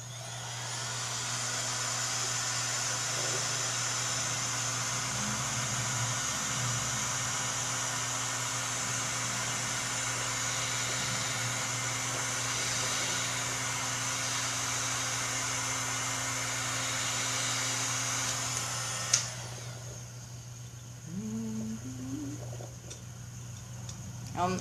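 A heat gun on its second setting, about 460 degrees, is blown over fresh epoxy to pop bubbles. It makes a steady, close whooshing roar with a low hum for about 19 seconds, then cuts off, leaving quieter room sounds.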